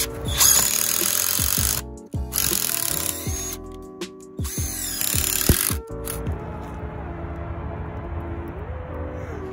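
Bauer impact driver driving screws into wood, with loud rattling hammer bursts separated by short pauses, each stopping with a sharp click, then easing into a quieter trailing whir.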